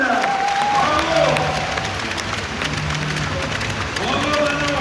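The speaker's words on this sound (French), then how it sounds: "Applaudissements pour Manon Cardinal." Audience at a handball club's season-end ceremony claps and cheers steadily, a dense wash of applause with crowd murmur and voices calling out over it throughout.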